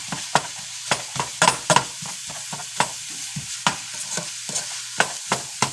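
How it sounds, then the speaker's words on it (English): Thin sheets of steak fry in a pan while a utensil stirs and scrapes them, giving a string of sharp, irregular scraping knocks over a quiet, steady sizzle, close and fairly soft. "And just stir this around a bit."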